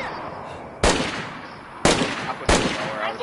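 Three loud, sharp gunshots ring out in a zombie-hunting video game, spaced about a second apart with short decaying tails over quiet background noise.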